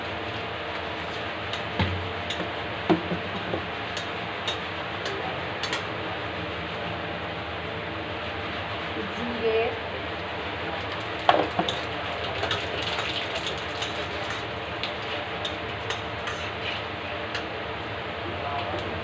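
Two bay leaves sizzle in hot oil that was already used to fry fish, a soft steady crackle with occasional clicks and taps, while a voice talks over it.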